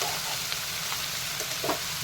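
Mushrooms sautéing with salt in a pan make a constant close hiss, with soft shuffling stirs and an occasional light scrape over the sizzle, no voices present.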